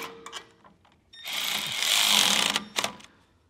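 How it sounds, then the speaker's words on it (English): A ratchet with a 9/16 deep well socket snugs down bolts on rear air helper springs on a 2019 GMC. Close by, it gives a fast, continuous run of clicks lasting about a second and a half, with a few shorter bursts after it. "we'll just tighten these down with a deep well 9/16"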